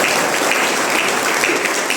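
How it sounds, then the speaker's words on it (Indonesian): Audience applause at a church men's revival gathering, a dense, steady wash of clapping from many hands, loud and continuous throughout with no pauses. "kita berikan dulu tepuk tangan yang meriah untuk para wanita terpuji di belakang"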